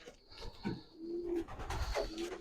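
Racing pigeons kept for club racing cooing softly nearby, a few low murmured calls with light rustling in a quiet loft.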